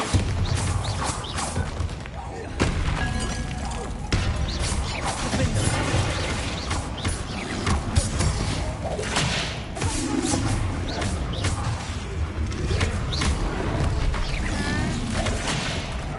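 Bombarda blasting spell cast in the video game Hogwarts Legacy, heard as heavy thumps and crashing impacts inside a dense, continuous wash of game ambience and music, steady and loud throughout.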